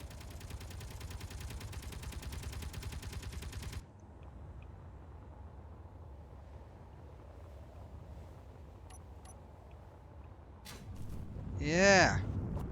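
Rapid automatic gunfire rattles in Space Engineers, a dense steady burst of shots lasting a few seconds before cutting off, leaving low rumbling background and a later rising whine.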